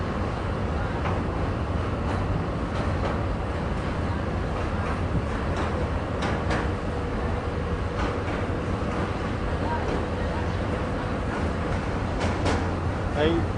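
Steady rumble and rattle of a moving train carriage on the Bangkok to Hua Hin line, continuous low drone with clicks and squeaks over the tracks, no talking.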